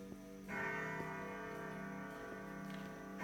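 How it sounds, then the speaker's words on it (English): Mahogany grandfather clock chiming in an estate-sale home, sustained ringing tones with steady faint ticks underneath, close and moderately quiet. "do you hear the grandfather clock?"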